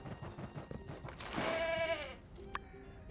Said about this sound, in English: The sounds of the goat are way better than the horse.